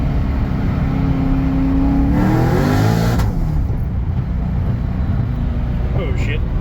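A car engine, fresh tensioner and belt fitted, revs hard through second gear toward 7,000 rpm, a loud rising whine climbing over a few seconds before dropping off, with a voice over the roar.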